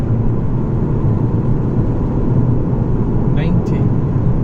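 A 2007 Toyota Avensis diesel car accelerating hard, its engine and road noise forming a loud, steady drone throughout, with a brief higher whine rising near the end.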